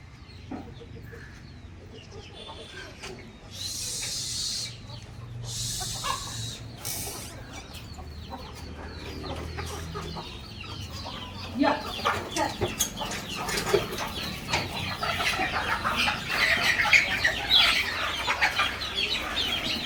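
Village desi hens cluck in scattered bursts while eating home-made calcium feed in a swept yard, with busy pecking and fluttering noises building louder toward the end.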